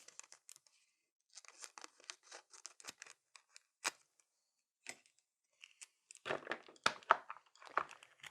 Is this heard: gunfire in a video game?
no